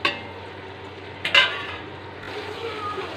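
Tomatoes sauté in a pan of chicken kurma, a soft steady sizzle with a couple of sharp utensil scrapes and stirring clinks partway through, close and fairly quiet.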